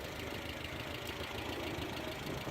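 A Renault 5 TL engine idles steadily with a low, even rumble and faint knocking, no voices, constant level throughout.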